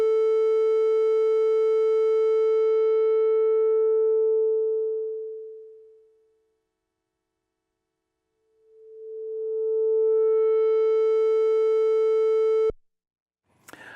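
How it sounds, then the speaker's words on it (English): A Minimoog oscillator tone runs through its filter with emphasis turned down while the cutoff sweeps. It is bright and steady, then dulls and fades to silence, returns and opens back up, and ends with a sharp click. "That's just the cutoff frequency being manipulated."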